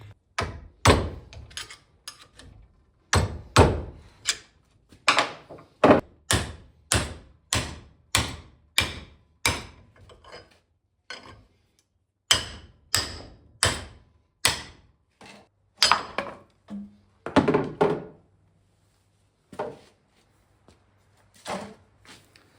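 Repeated sharp metallic hammer blows knocking an old axe head off its wooden handle, a steady run of loud, close strikes with brief pauses, a few heavier thuds near the end.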